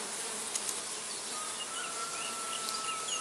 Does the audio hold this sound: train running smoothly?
no